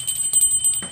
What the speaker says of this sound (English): It's an altar bell. A bell.